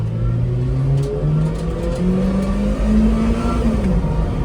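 A supercharged Subaru Sambar kei truck pulls away from a standstill, its small engine rising steadily in pitch under hard acceleration, loud and close inside the cab.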